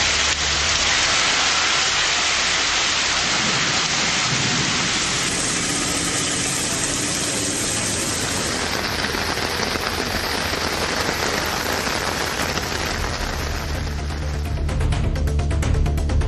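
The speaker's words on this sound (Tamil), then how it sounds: "1 மணி நேரத்திற்கும் மேலாக இடியுடன் கனமழை பெய்தது" Heavy rain pours down in a steady, dense roar that stays loud and unbroken from start to finish. No voices are heard over the downpour.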